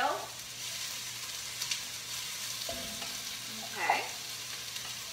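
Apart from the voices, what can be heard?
onions frying in olive oil in cast iron pan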